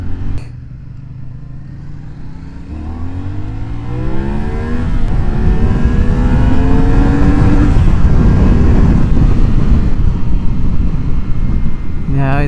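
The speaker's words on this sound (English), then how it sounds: "pretty peppy little engine for" A CFMOTO 450SS sport bike with a 399cc engine accelerates through the gears. Its rising engine note climbs in pitch and grows louder and rougher as wind and road noise build, heard up close from the rider's position.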